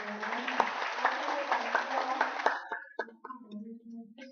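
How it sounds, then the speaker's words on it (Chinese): Audience applause for a lecturer at a hall ceremony, a dense steady wash of many hands clapping for about two and a half seconds, then fading into scattered claps and faint voices. "好，再次热烈掌声。"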